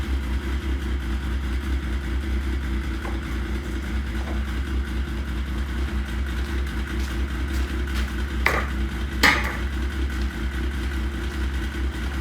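A 2006 Yamaha RS Viking Pro snowmobile engine idles steadily nearby, a low continuous hum with a couple of brief sharp clicks or knocks near the end, no talk.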